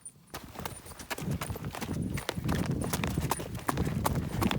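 Young horse trotting, with a steady run of sharp hoof clip-clops close by and a faint high tone running through.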